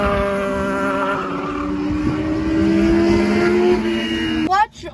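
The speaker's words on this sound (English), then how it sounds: "I let it idle, it doesn't idle anymore." Race car engine at a dirt speedway, running with a rough, uneven idle and steady harmonic drone before cutting out abruptly near the end.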